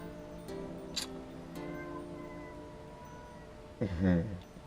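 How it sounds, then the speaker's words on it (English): A cat meows once near the end, a short rising cry, after a quiet stretch with a soft voice in the background. "If you're hearing that meowing in the background right now"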